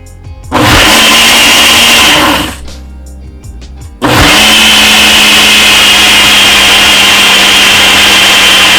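A blender whirs through protein pancake batter in two loud bursts, the motor spinning up with a brief pause and a few light knocks between runs, then running steadily to the end.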